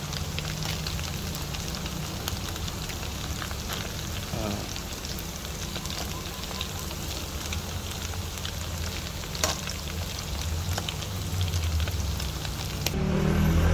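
Squid rings for calamares frying in hot oil in a pan, a steady dense sizzle and crackle that runs close and unbroken throughout, with a few faint clinks of utensils.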